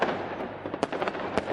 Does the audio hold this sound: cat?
no